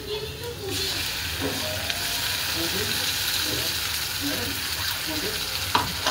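Blended puree from two tomatoes fries in hot oil with curry leaves and ginger-garlic paste for a brinjal curry. A steady, hissing sizzle runs throughout, with quiet stirring scrapes and some talk over it.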